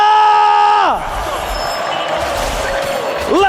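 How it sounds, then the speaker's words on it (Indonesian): Crowd cheering and applause at an esports match between FNOC and EVOS, a loud sustained roar after a descending tonal sweep, with a rising tone returning at the end. "Mana tepuk tangannya?"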